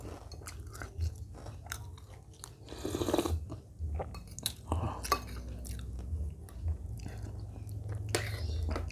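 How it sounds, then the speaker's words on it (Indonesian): Someone eating spicy squid with water spinach soup, close wet chewing and slurping with soft crunches and bites, steady and intimate, with faint whispery sounds in between. "Sekarang kita cobain kuah kangkungnya."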